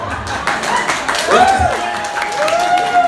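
An audience claps at a live poetry performance, with a moderate wash of applause running under a speaker's voice.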